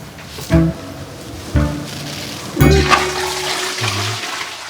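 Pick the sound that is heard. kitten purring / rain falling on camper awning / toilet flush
toilet flush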